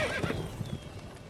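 Roach, the horse in The Witcher 3, lets out a loud, close whinny at the start while quick galloping hoofbeats thud beneath it, all over in about a second.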